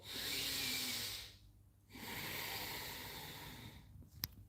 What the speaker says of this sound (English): Let your belly's muscles expand and contract with your breathing.